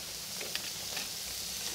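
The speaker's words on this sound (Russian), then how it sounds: "И мясо на нем жарится." Meat sizzles on a grill grate over a smokeless indoor barbecue, a quiet, steady hiss with faint crackles and small pops throughout the short clip.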